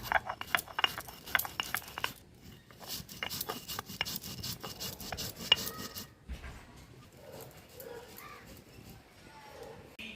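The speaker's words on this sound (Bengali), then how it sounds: "রাঁধুনি আর মৌরিটা ঠান্ডা হয়ে গেছে এবার আমি একটু বেটে নেবো" Radhuni and fennel seeds ground by hand on a grinding stone, a scraping, rasping rub that repeats in bursts, loud at first and then fading to quieter, sparser strokes.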